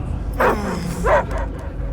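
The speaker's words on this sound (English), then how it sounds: "I hear only barking" Dogs barking in the Guardians of the Galaxy video game: two sharp, whiny barks a half second apart over a low background hum.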